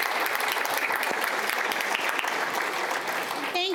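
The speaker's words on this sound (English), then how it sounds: "Can we get another round of applause for our fantastic panelists here?" Steady, dense applause from an audience thanking the panelists at the close of a literacy summit panel discussion, sustained and even throughout with no pauses.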